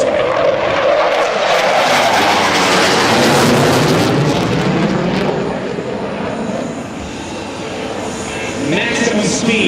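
F/A-18C Hornet with twin General Electric F404 turbofans roaring past at an air show, a loud sustained jet roar with a sweeping pitch shift as it passes, with an announcer talking over it.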